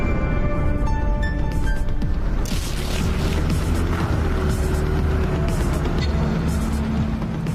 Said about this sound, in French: Soudain, une voiture apparaît et s'approche lentement de la maison.